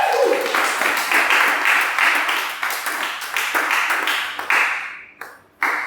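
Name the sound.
audience applause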